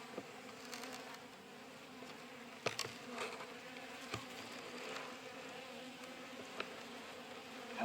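Honey bees hum from an opened hive in winter, a steady close buzzing drone that fills the clip, with a few soft knocks and rustles over it.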